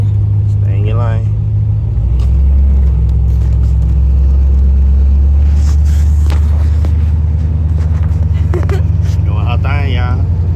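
A car driven on the road by a nine-year-old under instruction, its engine a steady low hum and rumble swelling slightly as the gas is eased on, with people talking over it throughout.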